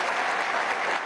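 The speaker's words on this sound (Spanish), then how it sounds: "un aplauso a Wilfredo" Dense audience applause for Wilfredo at a Venezuelan government broadcast event, a steady wash of clapping filling the whole moment without pause.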